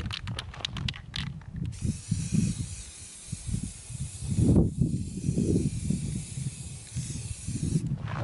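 An old aerosol spray paint can, long unused, hisses in a series of short bursts and then longer sprays onto a metal shooting target, close and clear with brief pauses between.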